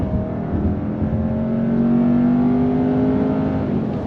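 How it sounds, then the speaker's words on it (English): Turbocharged engine of a 2024 Hyundai Santa Fe midsize SUV with an 8-speed transmission pulling under throttle from a roll, a steady rising hum with a gradually climbing tone, close and continuous with no talk. "you are waiting a little bit for the boost from the turbocharged engine to kick in"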